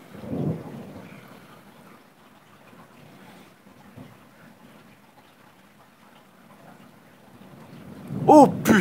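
Thunder from a violent thunderstorm in Loriol, Drôme, France rumbles low and heavy, with a strong roll at the start and a louder crack near the end, over soft rain, and a voice calls out briefly.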